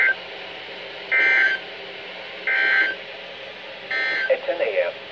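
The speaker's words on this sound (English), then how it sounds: "the National Weather Service weather radio warning alarm" A National Weather Service weather radio warning alarm sounds on a radio, three long steady tone bursts about a second each over a hum, with radio noise and talk-like sounds following.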